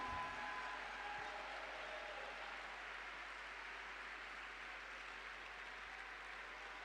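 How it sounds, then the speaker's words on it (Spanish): Sustained audience applause at an evangelical preaching event, a dense steady wash of clapping from a large crowd that holds evenly from start to finish, fairly distant and without any talk over it. "Den un aplauso."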